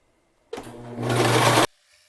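A sewing machine stitches a sailor gaiter face covering in one close, loud burst of about a second, its motor whirring up and holding steady before stopping abruptly into quiet.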